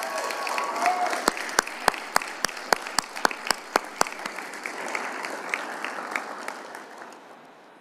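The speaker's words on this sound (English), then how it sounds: "I would like for you all to give a round of applause to the entire tennis team on their first Western Athletic Conference Championship title." An audience at a university leadership and service awards event applauds the tennis team, steady crowd clapping with a run of sharp, closer individual claps partway through, tapering off toward the end.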